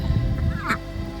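Backyard ducks give a single short honking call partway through, over a low rumble of background noise.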